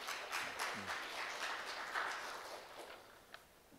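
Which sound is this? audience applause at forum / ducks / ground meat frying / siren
audience applause at forum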